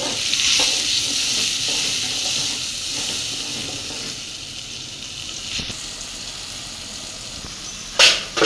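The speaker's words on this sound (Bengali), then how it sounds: "এখন আদা আর পেঁয়াজ বাটা দিয়ে মরিচ হলুদ গুঁড়া মশলার গুঁড়া দিয়ে দিচ্ছি" Ginger and onion paste with chilli, turmeric and spice powders fries in a pan, a continuous bright sizzle with occasional stirring scrapes and a louder burst near the end, with no voices.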